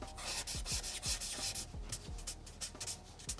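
Hard pencil line blended on paper with quick repeated swipes, a dry close rubbing and sanding texture in steady strokes, no voices.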